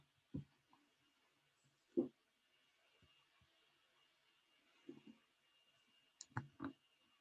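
A computer mouse gives a handful of quiet, sparse clicks spread over several seconds, with a close pair near the end, against a faint hum and no talking.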